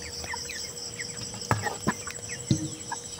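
Broiler chickens at twenty-five days old cluck and squawk softly while being lifted together for weighing on a poultry farm, with a few sharp knocks and a faint constant hum behind them.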